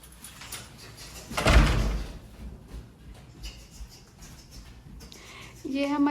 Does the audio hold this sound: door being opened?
yes